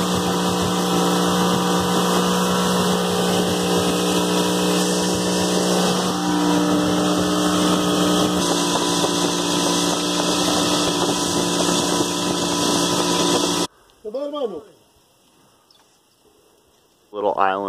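A motorboat engine droning loudly and steadily on a large lake at Guatapé, Colombia, buffeted by wind noise, then cutting off abruptly near the end to brief quieter sounds.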